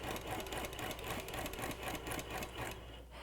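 An Innova longarm quilting machine runs a basting stitch at three stitches per inch along the edge of a quilt top, a steady rapid mechanical chatter of needle strokes that holds even throughout and stops near the end.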